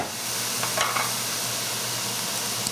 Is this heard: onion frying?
yes